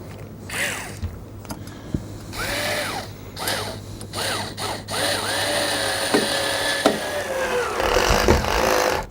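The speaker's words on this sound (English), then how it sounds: "countersink the holes with that same countersink tool" A countersink bit in a drill bores into wood for a hinged drop-down, in a series of short whirring bursts with separate starts and stops. Faint scraping and handling noises fall between the bursts.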